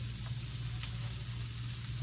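Shrimp dry stir-frying in a wok for salt and pepper shrimp: a faint, steady sizzle over a low background hum, with a couple of soft stirring touches and no talking.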